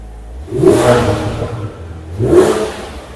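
A Porsche 997 GT3 RS sports car engine revs up hard twice, each surge rising and falling, loud and close with no voices.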